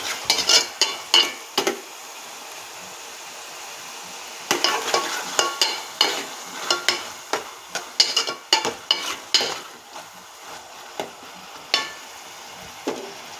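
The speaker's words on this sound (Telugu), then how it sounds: "ఇందులో కొంచెం అల్లం వెల్లిపాయ పేస్ట్ వేస్తున్నాను. బాగా కలుపుకోవాలి" Ginger garlic paste is stirred into sautéed tomato and onion in a pan for a raw prawn and tamarind curry, a series of sharp spoon scrapes and clinks in bursts over a soft, steady sizzle.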